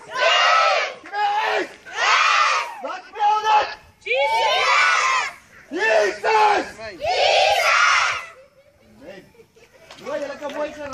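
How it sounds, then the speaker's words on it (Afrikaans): Crowd at a church gathering shouting "jee" together in a series of loud, drawn-out group yells, each burst rising and falling, repeated about six times with short gaps, fading into scattered cheers at the end. "Skree almal jee."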